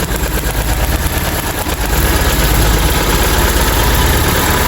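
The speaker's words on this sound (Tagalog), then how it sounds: "Tinanggal natin yung high tension wire ng number 2. Halos hindi nagbago yung kanyang idle. Palyado siya, hindi nagbago." Car engine idling roughly with a misfire, its number 2 spark plug wire pulled off and that cylinder low on compression; a loud, close, steady uneven chugging throughout with no talk.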